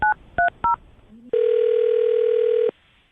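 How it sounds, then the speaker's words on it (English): A telephone keypad sends three quick, evenly spaced DTMF beeps, then a single long steady tone sounds clearly before cutting off to quiet. "I'll dial her phone number right now"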